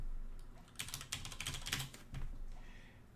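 Rapid bursts of keystrokes on a computer keyboard as a Linux terminal command is typed, close and fairly quiet, clustered clicks for about two seconds then a pause.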